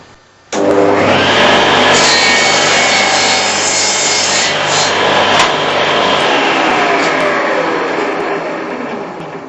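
A Shopsmith saw cuts a mitre through timber in a loud, close, steady whine that starts abruptly and runs for several seconds before slowly easing off.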